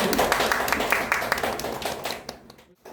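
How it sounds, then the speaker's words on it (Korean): An audience at a university admissions information session gives a short round of applause, a brisk cluster of claps that thins out and fades within a few seconds. "우리 1부 팀하고 다시 한번 박수 주시죠"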